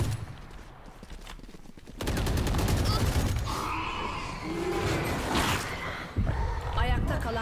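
Rapid gunfire from the video game Valorant on the Ascent map, loud bursts of shots starting partway through and continuing with game sounds, with a voice talking over the action.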